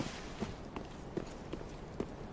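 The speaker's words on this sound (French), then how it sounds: "Les bruits de pas changent ici." Footsteps in the video game Dark Souls 3, a character walking through water, give soft regular splashy thuds about every half second over a low ambient hiss, with no talking.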